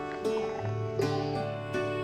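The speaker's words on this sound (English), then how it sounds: "Hear the green frog." A green frog croaks three times at a slow, regular pace, each call a short, twangy, plucked note over a soft, steady background hum, close and clear with no voices.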